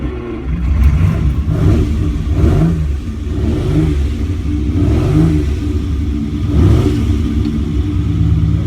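A Ferrari 250 Lusso's front-mounted V12 engine starts and rumbles loudly and steadily, rising in a few strong revs before settling back to a deep idle.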